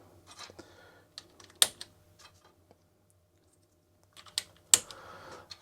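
Keys are pressed on a TIKI 100 computer keyboard during repair work: scattered quiet clicks with a couple of sharper, louder key strikes, close up with no talking.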